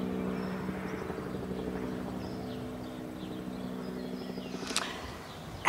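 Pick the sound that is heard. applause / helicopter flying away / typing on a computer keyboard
helicopter flying away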